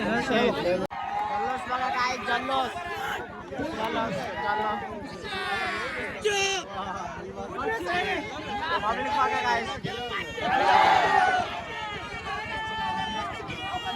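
A festive crowd celebrates on a packed fairground beside a Shiva temple, with dense, lively babble and excited shouts close by and people talking over it throughout.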